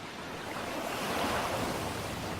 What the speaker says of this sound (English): As waves hit the western edge,